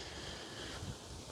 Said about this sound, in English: windy day out here today